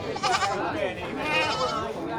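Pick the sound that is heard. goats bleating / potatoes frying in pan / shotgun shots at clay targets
goats bleating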